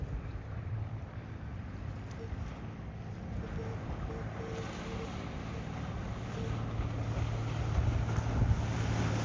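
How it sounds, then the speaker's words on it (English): A 1951 18 ft Penn Yan President motorboat's Phantom 6112 engine with dual carbs drones steadily under gusty wind noise and water wash on Lake Champlain, growing slightly louder toward the end. "Phantom 6112 with dual carbs pushes that boat along."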